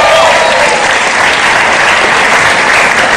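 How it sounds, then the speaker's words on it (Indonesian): Studio audience applause on an Indonesian television talk show, loud and dense clapping filling the room without a break from start to finish. "Tepuk tangan untuk semuanya."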